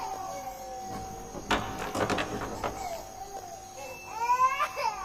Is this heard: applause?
no